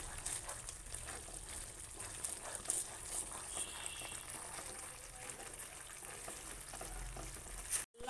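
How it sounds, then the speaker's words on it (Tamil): Kerala-style halwa stirred continuously in a pan, a soft bubbling sizzle running under faint background sound, the stirring blending into the steady texture, with a brief sharp knock near the end. "நல்லா கைவிடாமல் கிளறிக்கிட்டே இருங்க. மிக்ஸ் பண்ணிக்கிட்டே இருங்க."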